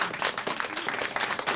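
Studio audience clapping during a televised Russian intellectual quiz game, a steady broadband patter of many hands filling the short stretch without pause, moderately loud and close, with no clear talk over it.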